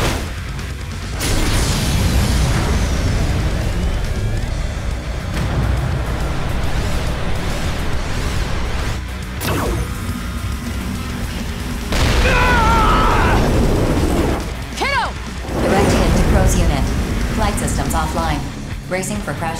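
Laser weapon attack and crash landing in the video game Daemon X Machina: loud booming blasts and rumbling impacts over roughly twenty seconds, with sweeping tonal effects and brief voices mixed in.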